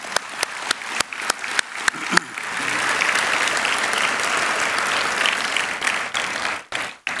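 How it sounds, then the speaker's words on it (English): Audience applause at a chamber of commerce annual meeting and awards event: a few scattered claps build into a dense, sustained wash of clapping from a large crowd, then tapers off near the end. "How about a big round of applause?"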